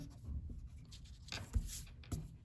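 A pencil drawing is rubbed out with an eraser, giving soft, faint scratchy strokes in a few short bursts in a quiet room.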